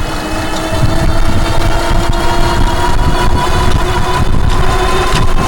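A Happy Run G50 Pro 2000-watt e-bike motor accelerates under throttle, a steady mid-pitched electric whine with faint tonal lines over constant wind and road rumble, loud and close throughout with no talk.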